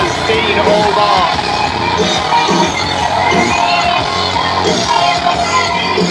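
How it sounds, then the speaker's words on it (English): Wrestling crowd roaring and yelling throughout a Country Championship Wrestling entrance for CJ Rawlings, loud and dense with shouts and whoops, some voices talking within the noise. "And the crowd for CJ Rawlings"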